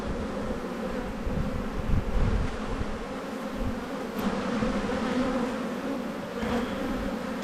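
Honey bees buzz densely around an opened hive during spring buildup, a steady close droning swarm that continues throughout with no talk.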